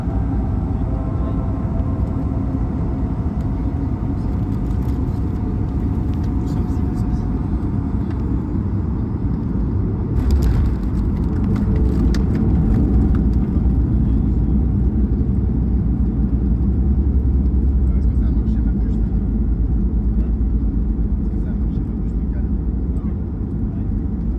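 A small airplane's engine drones steadily on approach to land at Nuuk, Greenland, a constant loud rumble inside the cabin with a brief rise in noise midway.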